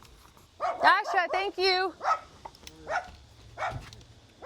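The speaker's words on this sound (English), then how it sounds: "Sorry about her barking." A pet dog named Dasha barks and yips in a quick cluster of sharp, close barks, followed by a few whimpering yelps, while a person speaks briefly.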